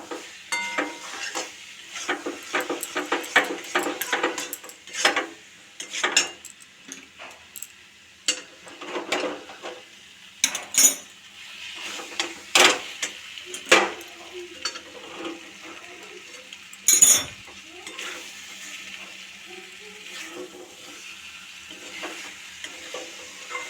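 Food is stirred and sautéed in a pan, with close, irregular scraping and clattering bursts of a spatula over a soft sizzle. No one speaks.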